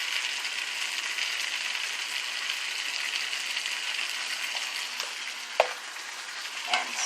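Onion salt, poultry seasoning and parsley being dumped into a simmering pot of chicken pot pie filling and stirred, under a steady bubbling sizzle, with a couple of faint spoon knocks against the pot.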